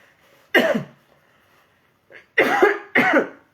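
Three harsh coughs ring out close by, one alone and two in quick succession, with a small throat sound between them.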